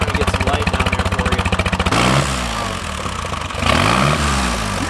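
Vintage motorcycle engine running close by, first with a fast, steady pulsing beat, then settling into a smoother, deeper revving drone that swells again near the end.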